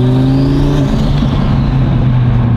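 Twin-turbo Audi R8 engine accelerating hard, a loud, steady, close-up roar with rising harmonics that holds for the whole stretch, with no talking over it.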